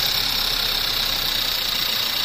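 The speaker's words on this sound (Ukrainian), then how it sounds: "І ось так от працює двигун. Тільки запустив його." Skoda Octavia A5 1.8 TSI petrol engine, 2010, 4x4, running cold on its second start after an engine repair: a steady, even idle hum with a constant hiss and no voices, unchanging throughout.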